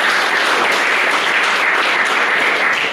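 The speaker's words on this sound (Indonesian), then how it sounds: "Aplaus buat Taki." A lecture class in research methodology applauds a student, a dense, steady patter of many hands clapping together for about three seconds, fading slightly at the end.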